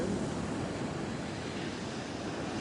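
Ocean surf washes in a continuous broadband roar, steady and enveloping without distinct individual breaks, mixed with some wind buffeting the microphone at dawn by the water.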